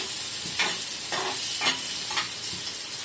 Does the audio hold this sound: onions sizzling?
yes